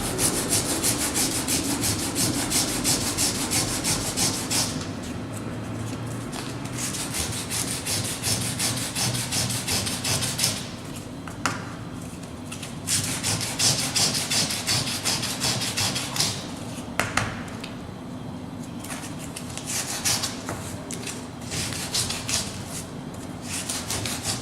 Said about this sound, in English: Sandpaper, this is 80 grit, but any medium grit sandpaper will do